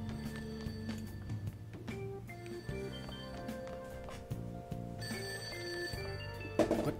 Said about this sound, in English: The ringing sound isn't coming from my cell phone.